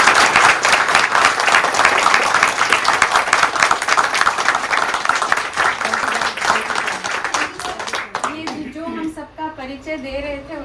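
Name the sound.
audience applause after a theatre play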